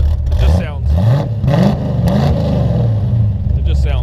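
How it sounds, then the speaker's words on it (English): A 1971 Datsun 240Z sports car engine revs up and down in several throaty surges, loud and close, with a deep rumbling idle between pulls, on a very cold day. "Rev it up a little bit."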